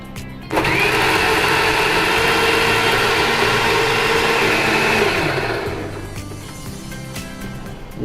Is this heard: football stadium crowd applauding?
no